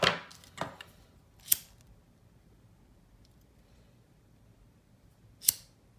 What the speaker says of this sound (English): now I'm going to take this piece right there. To cut it.